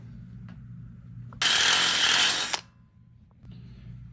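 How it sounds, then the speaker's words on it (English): A Hardell rivet nut tool being handled, with a burst of loud, close mechanical rasping and ratcheting lasting about a second, set between faint clicks and a low hum. "Okay, so I got the handles of my rivet tool spread wide open"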